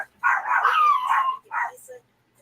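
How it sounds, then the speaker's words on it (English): A dog gives a couple of close, short barks and a yip, close by, breaking off into silence. "yes, the dogs are going to go off."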